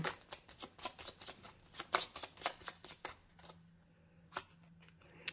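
Tarot cards being shuffled by hand at close range, a rapid run of crisp riffling taps and flicks for about three seconds, then a quieter pause broken by a couple of single card snaps.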